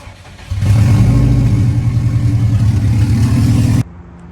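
A turbo-upgraded 2004 Subaru WRX with new injectors, fuel pump and tune and the downpipe removed cranks and fires, then settles into a loud, steady idle for about three seconds before cutting off abruptly.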